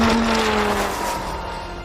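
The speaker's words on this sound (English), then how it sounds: "The Viper launches aggressively, while the Mustang struggles slightly off the line." A Dodge Viper V10 and an 850HP Mustang launching in a drag race, heard as one loud, close engine roar that sweeps down in pitch and eases slightly over under two seconds.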